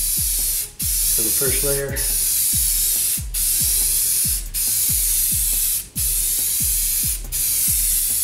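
A rattle spray can sprays clear coat in repeated loud hissing bursts with brief pauses between passes, close by, while a person talks throughout.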